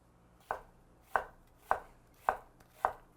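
A knife chops through an onion on a cutting board, making five crisp, evenly spaced knocks close by with nothing else around them.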